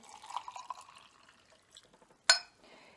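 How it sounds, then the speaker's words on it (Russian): Water is poured into a small Turkish coffee pot holding broken dried twigs, making a soft trickling and dripping for about a second and a half, then a single sharp clink, quiet and close. "Заливаю водой"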